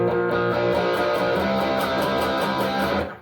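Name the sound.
electric guitar build-up moving up whole step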